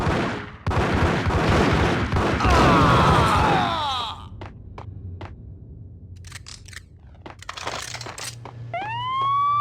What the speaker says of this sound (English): I'm allergic to sirens.